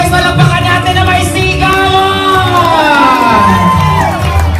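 A crowd cheers, whoops and shouts continuously and loudly at an 18th birthday debut celebration, with an emcee's voice briefly mixed in.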